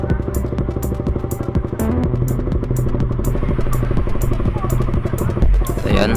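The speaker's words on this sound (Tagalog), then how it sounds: "Ayan, mag-ready na tayo ng motor." A motorcycle being readied and started in the morning, its engine running steadily and loud up close with clattering handling noises and a thump near the end.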